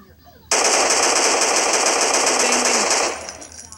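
A loud, sustained burst of rapid automatic gunfire from a video game weapon lasts about two and a half seconds and then tails off, standing out sharply from the quiet surroundings.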